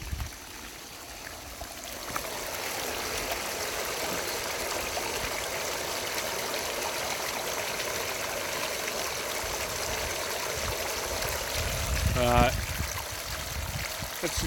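Roughly 2,000 gallons of water run steadily through, making a continuous rushing, trickling flow with a brief louder surge and gurgle near the end.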